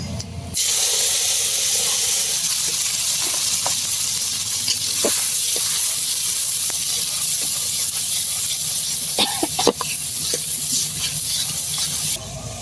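Raw jackfruit curry with five-spice tempering simmers in a pan, giving a steady hiss and sizzle throughout with occasional stirring clinks and scrapes, no voices.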